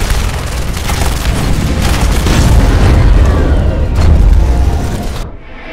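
A pipe bomb detonating in the Terminator Salvation video game: a loud, sustained roaring blast with heavy low rumble and crackling debris, lasting several seconds before cutting off abruptly.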